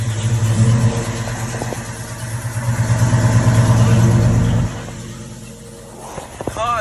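A cold car engine fires up at about 15 degrees outside and revs loudly in several surges, then drops to a quieter idle, with someone speaking briefly near the end.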